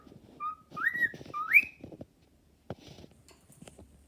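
A pet bird whistles up close in bright rising chirps, then goes quiet, followed by soft scattered ticks and rustling.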